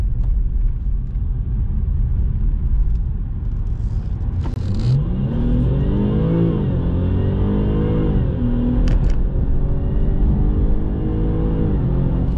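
A supercharged car engine fitted with an open air intake is held at full throttle at about 15 mph, giving a loud, continuous roaring drone with a rising, whining pitch sweep midway and no talk.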